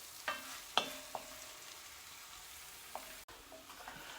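Sausages being stirred in a casserole pan, a quiet steady sizzle of frying with a few sharp clinks and scrapes of the spoon against the pan, heard alone.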